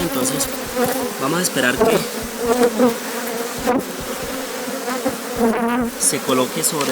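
Honeybees buzz densely around their queen at a hive, a close, steady swarming drone with a person talking over it.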